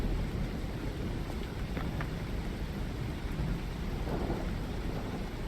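Rain pours steadily and thunder rumbles low in the video game Lies of P, a dense, continuous wash of downpour with deep rolling thunder beneath and no break.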